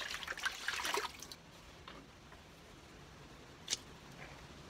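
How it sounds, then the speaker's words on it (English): Water from a carried container poured into a balcony garden pot, splashing and trickling close by for about a second before fading to quiet drips and a single sharp splash. "And then I'll add the last of the water that I've carried in."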